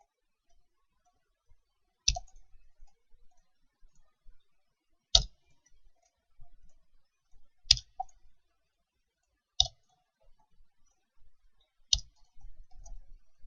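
Computer mouse clicks, about five separate sharp clicks spaced a couple of seconds apart, close and fairly quiet against near silence, with faint rustling between them.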